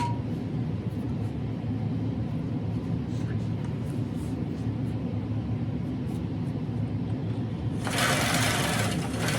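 A Gammill longarm quilting machine basting a quilt from the bottom up gives a steady, close mechanical hum and rumble. Near the end, a brighter whirring burst comes in.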